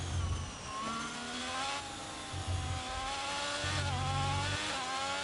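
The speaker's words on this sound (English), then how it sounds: "you hear how it's juddering a little bit?" A race car engine at a pre-season session in Abu Dhabi revs up under acceleration with a rising, slightly uneven, juddering whine that swells and falls several times at moderate distance.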